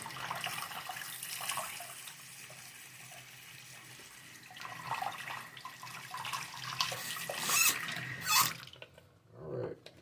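Tap water runs over scrubbed Jada diecast model cars, including a 2010 Mustang, as they are rinsed in a sink. The flow is steady, with splashy surges and clatter near the end before it stops.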